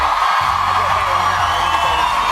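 A live studio audience at The X Factor UK cheers and whoops after a performance, a dense, loud roar of crowd noise with shouts mixed in that holds steadily without a break.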